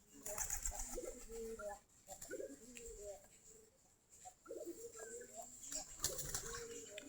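Domestic Giribaz pigeons feed at close range, soft coos mixing with bursts of wing flapping and scuffling, in uneven clusters separated by quieter gaps.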